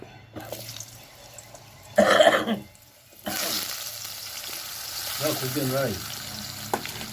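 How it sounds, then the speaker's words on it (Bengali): Potatoes sizzle as they fry in oil for a light fish curry, a brief loud burst of crackling followed by a steady softer hiss, with quick clinking and stirring sounds breaking in partway through. "এবার আলুগুলো ভেজে নিই"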